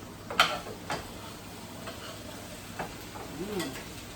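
Vegetables and franks stirred in a pan: a handful of soft scraping and tapping strokes from a utensil against the pan, spaced out over a faint sizzle, close but quiet.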